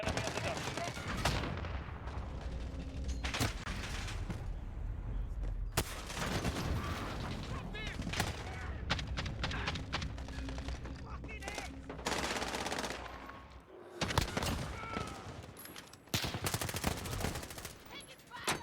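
Rapid bursts of automatic gunfire and heavy firefights in a Call of Duty match, dense and near, with repeated volleys and louder bursts toward the end, layered over game noise and occasional voices.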